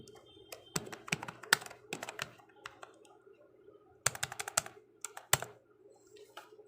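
Close, clattery typing on a computer keyboard while entering details into a bill-calculation program, with rapid clusters of key clicks separated by short pauses and a louder thump of a key near the end.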